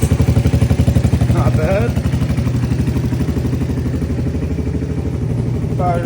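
Honda Big Red barn-find engine running after being cranked with the choke off, a steady, close, loud chugging putter with even rhythm throughout, while someone briefly speaks over it.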